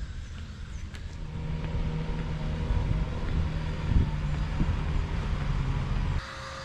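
A heavy front-wheel-drive campervan climbs a wet hill with a continuous engine drone that strains and rises slightly, with faint bumps and a sudden drop in level near the end.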